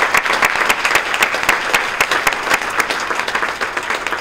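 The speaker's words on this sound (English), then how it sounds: "Let's have a round of applause for our elected and selected officials." Steady applause from an audience at a chamber of commerce legislative luncheon, dense clapping that holds at an even, fairly loud level for the whole stretch with no voices over it.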